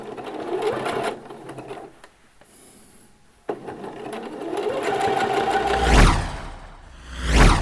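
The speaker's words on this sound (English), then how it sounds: "If you want to do a straight stitch here you can, or keep it as a zigzag stitch," Sewing machine zigzag stitching the shoulder seam of a T-shirt, running in steady bursts with a short pause in the middle, close and clear, with soft fabric handling at the end.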